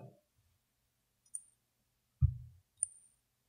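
A few sparse mouse clicks on a Mac while stepping through the Chimera installer, each a short crisp tap, quiet and separated by silence.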